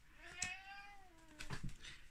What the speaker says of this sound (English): as my cat's saying